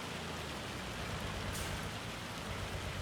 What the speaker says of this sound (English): The hail is falling really quite hard.